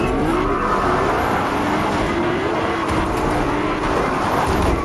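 Car engine in Fortnite driving steadily, a continuous close drone with gently shifting pitch and no pauses across the whole stretch.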